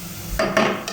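Garlic and onion are sautéed in a casserole pot. There is a low sizzle, and a utensil scrapes and clinks against the side of the pot two or three times in quick succession.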